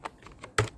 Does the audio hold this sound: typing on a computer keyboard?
yes